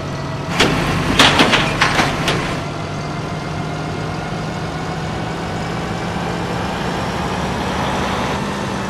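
Steady low engine hum from a tractor idling in Farming Simulator 2009, running evenly and continuously throughout, with a few brief sharp clicks and knocks near the start.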